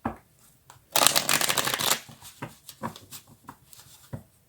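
A deck of tarot cards being shuffled: one loud, close riffle lasting about a second, followed by softer card flicks and taps.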